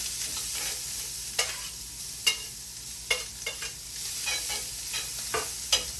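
Corn and chopped shrimp fry in a pan with a steady sizzle, punctuated by sharp spatula scrapes and taps at irregular intervals, close and without voices.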